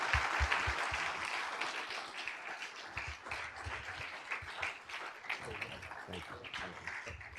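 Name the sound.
audience applause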